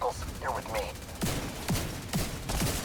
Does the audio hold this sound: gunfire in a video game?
yes